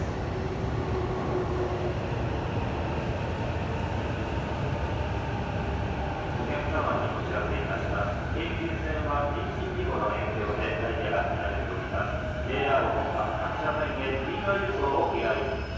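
A steady, loud rumble of a Keikyu Line train running on rails through Sugita Station, with rhythmic clatter and squeals, while people talk faintly over it.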